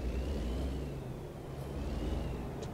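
A Kenworth W900B truck's engine drones low and steady in American Truck Simulator, holding a continuous rumble with a faint whine above it and no talk.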